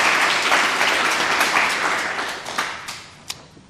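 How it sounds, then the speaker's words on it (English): Audience applause at a poetry recitation competition, many hands clapping at once in a bright, busy patter. It starts strong and gradually thins, with a few last isolated claps before fading. "So give them a round of applause"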